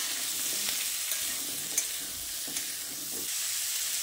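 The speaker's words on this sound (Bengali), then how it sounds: "এবার কুমড়োগুলো দিয়ে আলুর সঙ্গে ভালোভাবে মিশিয়ে নিচ্ছি।" Potato and pumpkin pieces fry together in a pan, a soft even sizzle carrying occasional scrapes and taps as they are stirred and mixed, with no talking.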